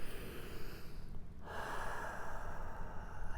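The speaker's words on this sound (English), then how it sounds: "Take a nice big breath here." A deep breath taken in a resting pose during a Pilates workout, with a long, soft, airy inhale-exhale rising in the middle of the clip and continuing steadily to the end, close and quiet.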